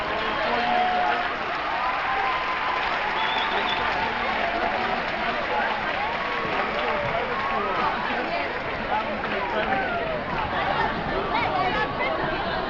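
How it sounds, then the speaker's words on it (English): A crowd of students claps for seniors accepted to college, continuous dense applause mixed with loud chatter and babble that holds a steady level throughout. "round of applause"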